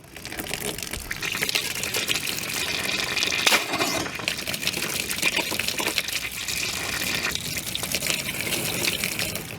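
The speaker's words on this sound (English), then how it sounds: "No leaks, and the water comes out of the hose bib." Continuous splashing gush of water pouring from a newly installed copper hose bib, steady and close for the whole stretch with occasional brighter spatters.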